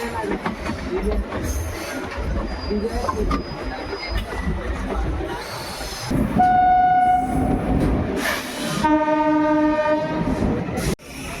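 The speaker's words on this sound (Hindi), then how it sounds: "तो ट्रेन बढ़ रही है फुलेरा जंक्शन रेलवे स्टेशन की तरफ।" A moving passenger express train rumbles and clatters toward Phulera Junction in India, then its horn blasts loudly twice in long sustained chords close by.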